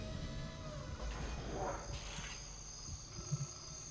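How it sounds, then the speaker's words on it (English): Artificial cricket chirping in the sci-fi horror game Dead Space, a soft steady insect trill set low beneath game ambience and scattered effects throughout. "Is that artificial sound of crickets being pumped in here?"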